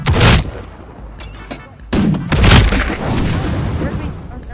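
Gunshots in the VR pirate game Sail: two loud, close cracking blasts about two seconds apart, each followed by a rumbling tail and noisy clatter.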